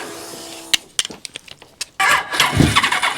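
A stubborn engine cranks in short bursts with uneven clicks and stutters, then catches into a louder, rough roar near the end, close by with no talking over it.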